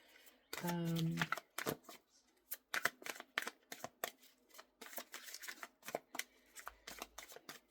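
Tarot cards being shuffled and handled at close range, a rapid riffle near the start followed by a steady series of crisp card snaps and slaps, with quiet talk in between.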